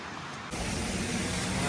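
Strong windstorm roaring outdoors on a rainy evening, a sudden loud wall of broadband rushing noise that starts abruptly and holds steady, close to the microphone.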